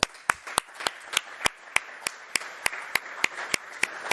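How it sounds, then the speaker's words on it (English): Audience members at an indoor environmental quality forum clap in a sparse, evenly paced rhythm, each clap crisp and distinct, fairly quiet and with no talking over it. "So please give a warm applause to our co-host, Systemair and Frico."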